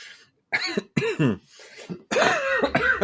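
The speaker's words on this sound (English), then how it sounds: "Pause for cough." Someone coughs and clears their throat in a few separate bursts, close to the microphone, with brief quiet gaps between them.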